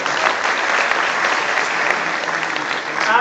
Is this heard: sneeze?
no